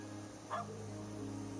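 A single short dog bark from a video game puppy rings out once over a steady electronic game ambience hum, brief and fairly close.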